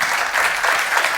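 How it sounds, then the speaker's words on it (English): Audience applause at a conference session on premises connectivity, steady and dense for the whole short stretch, fairly loud, with no voices over it. "Yeah, thank you all. Applause."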